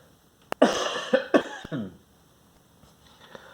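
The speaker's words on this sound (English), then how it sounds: "So I'm going to cough again, sorry." A few sharp coughs in quick succession, close by, followed by quiet.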